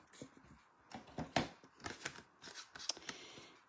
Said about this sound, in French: ici, je vais le découper avec mon poinçon